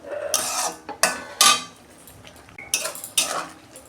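A lid comes off a pan of egg bhujia on the stove, with several sharp metallic clatters and scrapes of cookware spread across a few seconds, close and fairly loud, with no talking.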